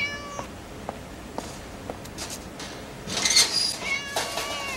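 A cat inside a laboratory puzzle box gives several short meows spaced apart, then a longer, louder cluster of wavering cries near the end over faint room noise.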